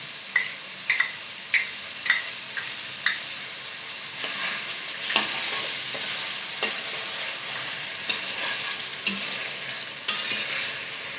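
Ginger garlic paste frying in chicken karahi on a street-food stall in Karachi, giving a steady sizzle broken by regular scraping stirs of a ladle against the pan, near and alone without voices.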